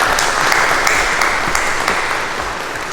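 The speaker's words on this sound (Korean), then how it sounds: "박수 한번 치실까요?" An audience at the launch event for the KGM Actyon SUV gives loud, dense applause that carries on steadily throughout.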